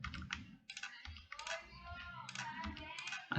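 Computer keyboard typing with several quick key clicks and a firmer Enter press near the end, close and moderately loud, with no talking.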